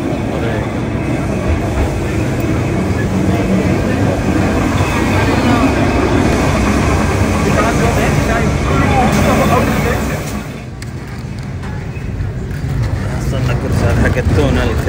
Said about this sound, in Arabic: ركبنا الترام 28 أخيرا.